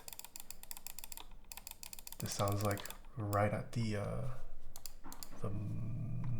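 Typing on a mechanical keyboard with TX switch films on a full aluminum plate, no foam, and CRP Desko Black keycaps: a dense, steady clatter of keystrokes running throughout, with a person talking over part of it.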